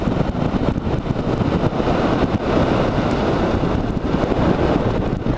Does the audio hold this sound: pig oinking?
no